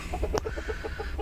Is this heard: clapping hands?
no